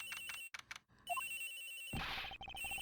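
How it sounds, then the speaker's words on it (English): A telephone ringing in the video game Ace Attorney Investigations, set in an airliner's flight attendant's room: a clear electronic ring in short repeated bursts, alone with no talk. "The ringing's coming from somewhere in here, sir."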